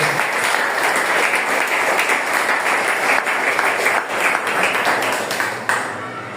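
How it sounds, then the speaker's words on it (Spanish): A church congregation applauds steadily during a Spanish-language sermon, a dense, loud wash of many hands clapping that holds without pause across the whole stretch and eases only slightly at the very end. "Dale palmas al Señor, iglesia."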